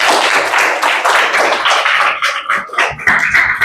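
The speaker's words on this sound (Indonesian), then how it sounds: "Kita berikan tepuk tangan dulu." Congregation applause at a church conference session, a dense and loud patter of many hands clapping steadily for several seconds and thinning slightly toward the end.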